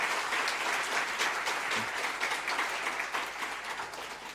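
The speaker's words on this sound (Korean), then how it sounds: "박수로 격려 한번 하겠습니다." Congregation applauding during a Sunday church service, a continuous dense wash of clapping at moderate level, steady throughout with slight swells and no break.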